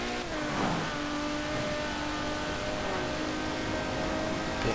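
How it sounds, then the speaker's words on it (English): A 1998 Mercedes-Benz AMG CLK GTR with a V12 engine revs in Forza Horizon 4, a steady mid-pitched engine drone with a brief rising rev near the start, moderately loud and with no talk. "great sounding V12 engine on it, which hasn't been dulled at all by the turbochargers"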